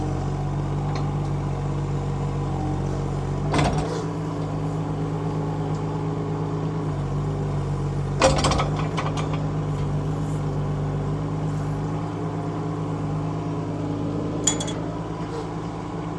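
A Kubota U17 mini excavator's engine running at a steady idle, a constant low hum close by, punctuated by a few short knocks.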